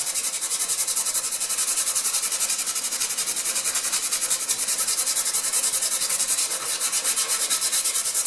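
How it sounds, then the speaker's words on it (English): Fine-grit sandpaper rubbed by hand along the grain of wood during a kitchen repair, a steady close hiss of sanding strokes that runs continuously and alone. "going to take me some fairly fine grit sandpaper here, clean stuff, not I used on the drywall, and sand it down."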